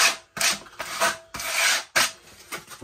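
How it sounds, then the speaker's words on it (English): Sandpaper rubbed by hand along the edge of a wooden shelf, heard as five or six close, rasping back-and-forth strokes separated by short pauses. "Got myself some sandpaper. I'm just going to quickly just clean up this edge."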